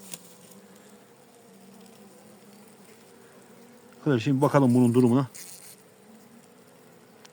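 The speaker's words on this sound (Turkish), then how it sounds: "Bunu arkadaşlar yırtacağız poşeti. İçinde arı var." Honey bees buzz inside a package bag as it is torn open, a sudden loud, wavering drone lasting about a second near the middle, with someone speaking just before and after and quieter background elsewhere.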